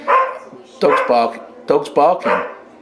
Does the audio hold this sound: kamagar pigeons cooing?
no